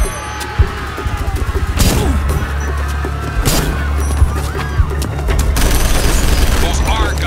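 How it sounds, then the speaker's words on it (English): Gunfire rattles through a battle in the game Act of War: Direct Action, with bursts of automatic shots, scattered single cracks and booms over steady rumbling, loud and close, while voices talk over it. "Those are gunshots, sir."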